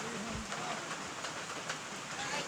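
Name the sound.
rain in a video game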